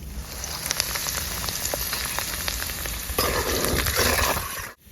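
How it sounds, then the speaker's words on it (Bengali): Garlic fries in oil over high heat, a dense rain-like crackle with sharp popping spatters, close and loud, growing more intense before cutting off abruptly. "রসুনটা আমার একটু ভাজা হয়ে গেছে"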